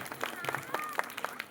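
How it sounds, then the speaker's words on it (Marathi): Scattered group clapping at a school quiz contest, rewarding a team that answered twelve questions, fairly faint and thin, with irregular individual claps and a faint voice in the background. "जोरदार टाळ्या वाजवायच्या आहेत."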